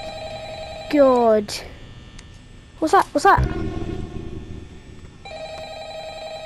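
A telephone rings in the horror video game FNAF VR Help Wanted: a steady electronic ring, then a gap, then two bursts of ringing with sharp sweeping tones. It ends with one more stretch of ringing, and a voice exclaims over the middle.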